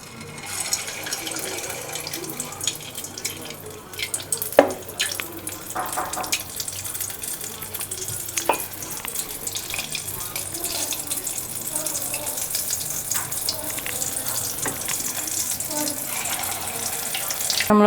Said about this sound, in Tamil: இப்போ நம்ம பொரிச்சு எடுத்துக்கலாம் ஒன்று ஒன்றா போட்டு